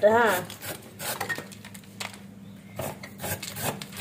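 Young jackfruit skin being scraped with a blade, rough rasping strokes repeated close up in irregular bursts, with talk nearby.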